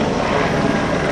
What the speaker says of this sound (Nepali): हेलिकप्टरको आवाज आयो।